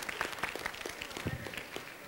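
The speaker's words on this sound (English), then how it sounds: "Give her a round of applause." Audience at a gathering giving a round of applause, a thin, fairly quiet patter of scattered hand claps heard at a distance.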